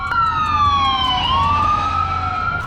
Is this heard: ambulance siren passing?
yes